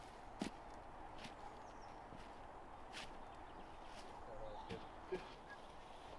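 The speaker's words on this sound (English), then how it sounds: "you can hear his footsteps, but that's about it" A man walks slowly down outdoors during a film shoot, his faint, sparse footsteps under low background noise, with a couple of soft thuds standing out.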